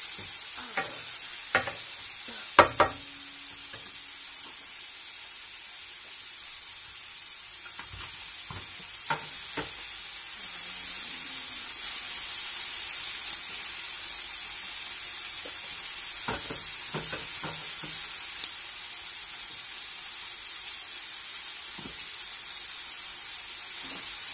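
Cassava sticks and vegetables simmer in a pan with a quiet, steady sizzling hiss, broken by occasional clinks and scrapes of stirring, with no one speaking.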